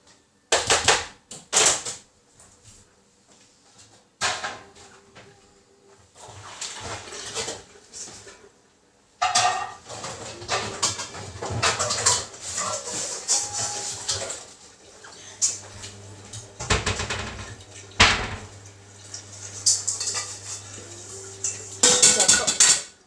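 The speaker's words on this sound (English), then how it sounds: "Meanwhile, I'm going to get my frying pan." Metal frying pan and wok clank and scrape in a series of sharp knocks and rattles, with quieter handling between bursts and a low hum in stretches.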